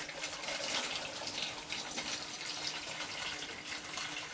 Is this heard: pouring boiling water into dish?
yes